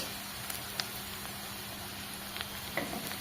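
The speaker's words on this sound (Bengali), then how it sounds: "এই কুচানো পেঁয়াজটা বেশ এমন লালচে লালচে করে ভেজে নেব" Chopped onion frying in oil in a pan, a steady close sizzle with a few faint clinks and stirring touches, no voices.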